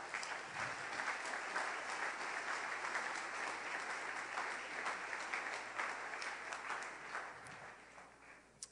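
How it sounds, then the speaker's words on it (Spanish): Sustained audience applause fills a large congregation hall during a Spanish-language Saturday church service, dense and steady clapping from many hands lasting the whole stretch before tapering slightly at the end. "Denle un aplauso a nuestro rey"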